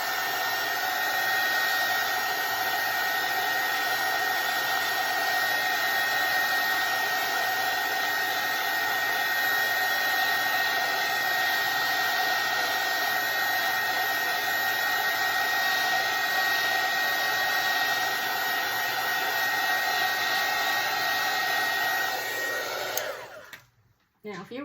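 A hair dryer runs loud and steady at close range, drying a watercolor painting, then cuts off abruptly just before the end.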